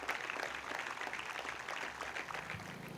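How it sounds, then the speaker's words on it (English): Steady round of applause from an audience at a convocation ceremony, a continuous wash of many hands clapping at moderate distance with no voices over it. "So a big round of applause for everyone who was listed here."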